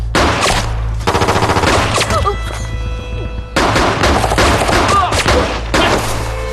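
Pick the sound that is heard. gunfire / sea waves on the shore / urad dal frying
gunfire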